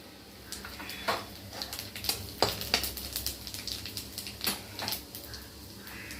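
Cumin seeds and chana dal sizzle and pop in hot oil, with a busy crackle and occasional stirring clinks, close by and steady.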